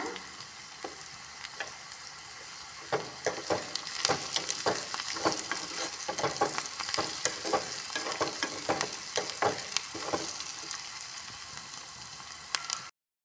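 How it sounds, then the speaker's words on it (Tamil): Onions sizzle in a hot pan while a utensil stirs and scrapes in irregular clicks, close and moderately quiet, with no talking. "இப்போ வெங்காயம் நல்லா வணங்கிட்டு இருக்கு"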